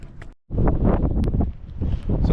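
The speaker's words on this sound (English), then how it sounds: "So it's a bit windy today" Wind gusts buffeting the microphone on a lake fishing pier at Bishop and Bruin Lake, a dense rushing roar with a brief drop-out near the start, loud and close.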